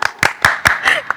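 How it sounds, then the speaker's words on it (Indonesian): A handful of sharp claps for karate champions in a podcast studio, about six distinct hand claps in quick, slightly uneven rhythm, close and loud. "Ya, luar biasa, berikan tepuk."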